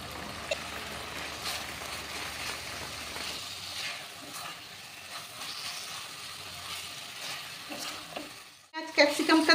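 Capsicum being stirred in a frying pan with spiced oil, a steady sizzle with repeated scraping strokes of a utensil, then a sharp louder burst of hissing near the end.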